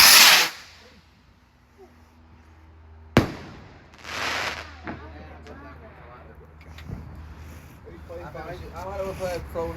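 Bonfire Night fireworks in an English neighbourhood: sharp loud bangs and crackling bursts at intervals, one very loud report in the middle, with people talking between the explosions.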